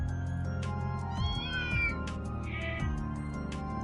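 Several cats meow in turn at a gathering of cats in the video game Trails through Daybreak, drawn-out rising and falling cries over a steady background music bed, with no talking.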